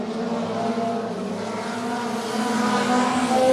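Cars lap an oval track with a loud, sustained roar. A steady engine drone slowly builds in strength, as if the pack is closing in.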